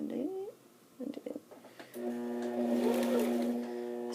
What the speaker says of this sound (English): This is going to be our zigzag stitch.